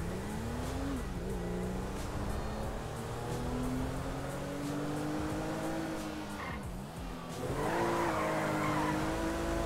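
A car driven in a FiveM GTA V game replay, its engine droning steadily with rising and falling revs and a brief tire squeal midway, loud and continuous with no talking.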